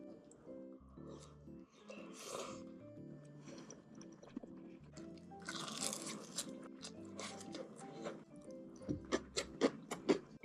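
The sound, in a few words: chewing food during Korean mukbang, meat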